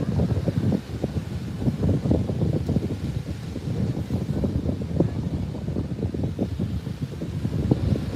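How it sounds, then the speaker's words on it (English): Steady wind buffeting a microphone at an Australian beach on a warm day, a continuous low, rumbling roar with gusty surges that fills the whole stretch. "Okay, I can hear the wind sound clearly."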